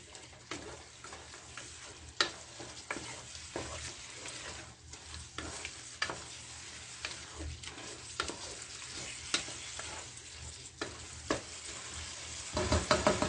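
Noodles and their ingredients stirred as they fry in a pan, a steady sizzle broken by frequent scraping and tapping from the spoon, close and fairly quiet, with no one speaking.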